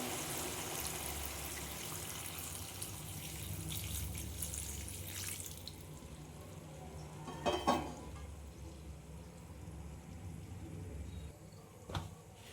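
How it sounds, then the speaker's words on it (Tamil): Water added to a pot of homemade chicken curry, a steady running pour under kitchen background noise, with a couple of brief clinks partway through. "கறி முழுகிற அளவுக்கு இதில் நம்ம தண்ணி சேர்த்திக்கலாம்"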